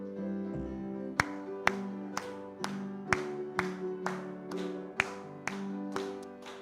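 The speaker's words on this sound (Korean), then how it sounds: "우리 뜨겁게 박수 올리면서 찬송 드리고" A church congregation at a Wednesday service claps a steady beat, about two claps a second, while hymn 350 is sung over sustained instrumental accompaniment.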